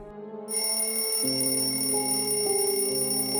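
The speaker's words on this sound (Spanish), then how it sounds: "Una sutil alarma sonaba para avisarnos que la jornada del día había terminado" An electronic alarm marking the end of the workday at a digging site starts abruptly and holds steady, a bright sustained beeping chime with shifting pitches underneath, continuing without pause.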